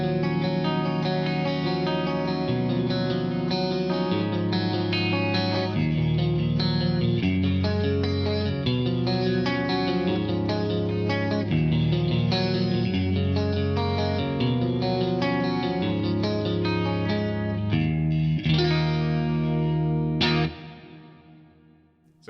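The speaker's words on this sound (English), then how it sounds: "really kind of crystal studio style clean with some chorus" A crystal-clear studio-style clean electric guitar tone with chorus, played through a Line 6 POD Go, rings out in a continuous flowing chordal passage, loud and close, before a final strum that fades out.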